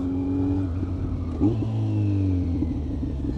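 A Kawasaki Z900 inline-four fitted with a Leo Vince GP Corsa slip-on exhaust revs up and settles, its loud, close, throaty note rising sharply mid-clip and then holding a steady drone.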